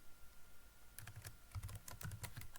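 Code is typed on a computer keyboard. After a second of quiet, rapid bursts of close, quiet keystrokes follow in uneven clusters, with no voice.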